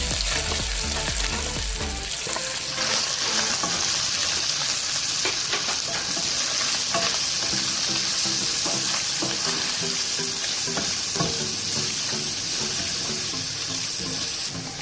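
Carrots tossed into a pan of stir-frying chicken fried rice, a steady loud sizzle with repeated scraping and stirring clatter throughout, close up and without talk.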